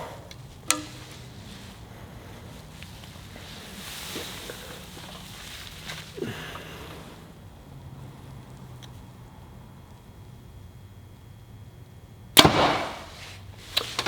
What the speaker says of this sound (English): you might have heard my arrows smash together in that last one